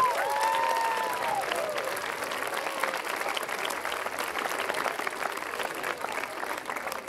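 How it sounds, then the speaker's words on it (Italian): An audience applauds the youth animators at the opening evening of a parish summer program in Cormòns, with steady clapping throughout and a brief whistle-like tone near the start. "farei un grande applauso a questi animatori"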